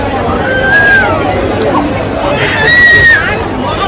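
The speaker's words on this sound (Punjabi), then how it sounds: "ਬਹੁਤ ਜ਼ਿਆਦਾ ਭੀੜ ਹੈਗੀ" A dense crowd of pilgrims at a Ganga bathing ghat in Haridwar after rain makes a loud, continuous babble of many voices, with nearby shouts rising over the hubbub.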